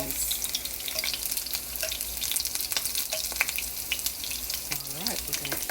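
Onion rings deep frying, giving a steady, dense sizzle that continues unbroken throughout at a close, even level.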